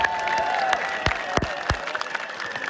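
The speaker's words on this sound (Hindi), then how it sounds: "खुद ताली बजा लो अपने हाथों से।" Crowd clapping at a large Hindu religious gathering, scattered hand claps with a few sharp, distinct strikes standing out over a continuous murmur of the crowd.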